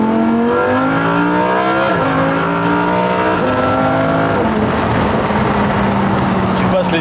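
A Lamborghini Huracan Performante V10 accelerates hard, its engine note climbing and dropping through several quick gear shifts, loud and close with no speech.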